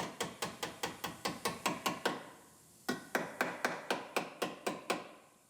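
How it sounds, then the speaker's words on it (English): Repeated hammer blows flatten a bent body panel piece on a totaled 2020 Toyota RAV4 XSE Hybrid, sharp metallic strikes in a steady rhythm, about a dozen, then a short pause and another run of evenly spaced hits, close and loud. "we'll hammer that piece flat"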